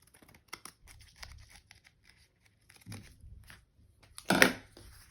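Scissors cut through crocheted lace for a handmade pamphlet cover: scattered soft snips and crinkles in a quiet room, then one louder, crunchy cutting burst near the end.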